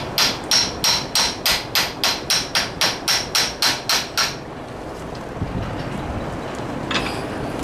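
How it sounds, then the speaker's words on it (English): Hammer taps on a steel shaft being driven out of a Massey Ferguson MF Model 25 tractor gearbox: about fourteen sharp, evenly spaced metallic strikes close to the microphone, then quiet room noise. "Just going to tap this hammer in here."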